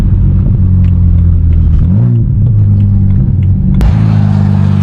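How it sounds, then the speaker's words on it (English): Car driving on a wet road, a loud steady engine rumble from inside the cabin with a brief rev change midway and a burst of hissing tyre spray toward the end. "we are now in the car driving"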